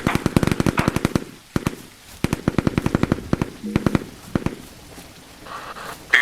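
Rapid bursts of automatic gunfire from the tactical extraction shooter EXFIL, clustered into several loud rattling volleys with short gaps, mixed with scattered single shots and no talking.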